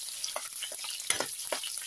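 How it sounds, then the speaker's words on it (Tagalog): Garlic frying in hot oil toward golden brown crackles and sizzles nearby, broken by quick bursts of stirring in the pan; no one speaks. "Antayin din natin mag-golden brown ang ating garlic."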